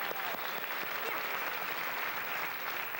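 Audience applause for a comedy stage act, a steady dense wash of many hands clapping at moderate distance, even and sustained throughout with no pauses.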